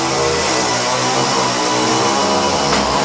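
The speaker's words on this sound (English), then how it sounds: "They even have chainsaws." A chainsaw runs loud and close for about three seconds in one continuous buzzing roar, with no break and no talk.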